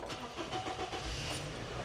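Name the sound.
Mitsubishi flatbed truck engine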